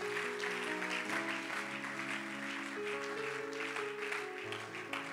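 A church congregation applauds for the Lord, a broad patter of clapping running steadily beneath sustained keyboard or organ chords.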